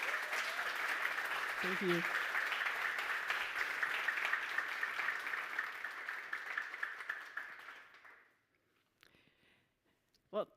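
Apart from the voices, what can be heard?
audience applause at a conference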